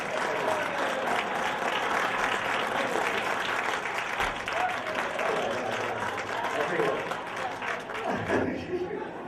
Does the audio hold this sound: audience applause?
yes